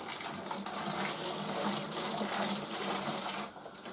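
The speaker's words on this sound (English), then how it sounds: "pouring a large kettle of freshly boiled water, completely boiling over all over it, down the sides" Freshly boiled water pouring from a large kettle into a bucket, a steady splashing gush that runs for several seconds and then eases off.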